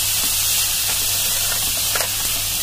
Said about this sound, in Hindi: इसमें मैं अभी सोया सॉस डालूंगी